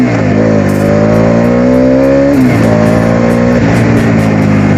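A Bajaj Dominar 250 motorcycle engine revs loudly and close, rising and falling through several throttle blips over a steady rumbling idle.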